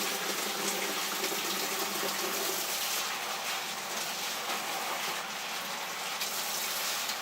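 Water gushes steadily from a tap, rinsing leftover blackworms out of a plastic bag, a continuous close splashing flow with no talk.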